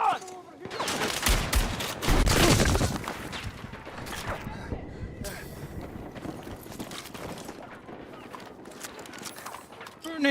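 Grenade launcher fire in a multiplayer shooter video game, a dense loud burst of blasts and gunfire early on, then scattered shots and battle noise with game voices speaking.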